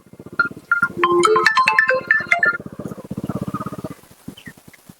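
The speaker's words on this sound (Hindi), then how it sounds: "फोनो बाजे लग।" A mobile phone ringtone in a rural Awadhi village home plays a bright, melodic run of tones for about two seconds. It sits over a steady pulsing low rumble that keeps going after the ringing stops.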